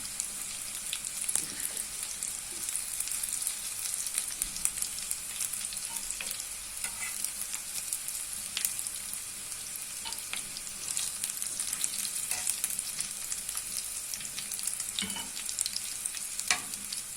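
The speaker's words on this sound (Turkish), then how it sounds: "güzelce kızarıyor" Cauliflower frying in hot oil, a steady dense sizzle with fine crackling pops throughout, even and unbroken with no voices.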